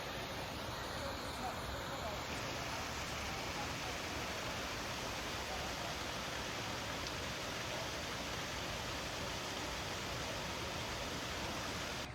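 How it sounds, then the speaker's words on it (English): A waterfall in the Japanese Garden at Washington Park, Portland, gives a faint, steady, even rush of falling water that is heard from a distance and keeps going without a break. "Look at the waterfall up higher."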